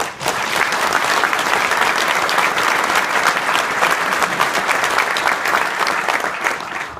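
At a 35th wedding anniversary celebration, a roomful of guests claps warmly and continuously, a dense, even wash of applause that stays strong throughout without speech over it.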